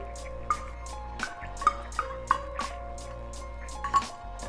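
Soy sauce, vinegar and chili sauce going into a pan for chilli chicken make soft, irregular drips and small liquid plops over a steady low hum, with no talking.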